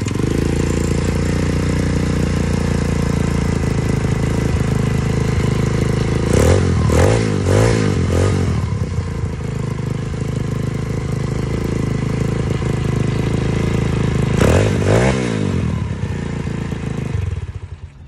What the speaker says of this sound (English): Bike up and running again.